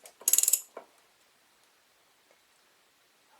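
Brief burst of rapid ratchet clicks while bolts are tightened onto the differential of a 1986–1992 Honda Fourtrax 350, a close, quick run of six or so clicks followed by a lone tap and then near silence.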